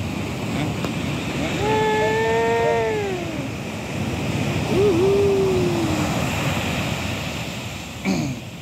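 Ocean waves breaking and washing on a beach at Barceloneta, Barcelona, a steady broadband surf roar throughout, with a person's voice or whistle-like tones rising over it near the start and middle.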